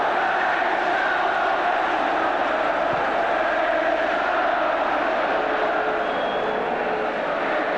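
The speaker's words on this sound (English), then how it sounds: "And just listen to this crowd." Football stadium crowd at a Chelsea versus Crystal Palace FA Cup match roaring, a thick continuous wall of massed voices, loud and sustained without pause.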